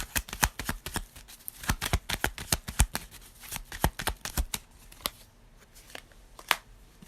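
Tarot cards are shuffled and drawn in quick, sharp riffles and snaps, close and distinct, slowing near the end to a few separate card flicks, with no voices.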